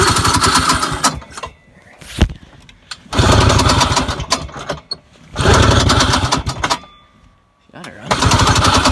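A small old engine with its choke set is started and runs in loud bursts of close, rough engine noise, cutting out between runs, while someone talks over it.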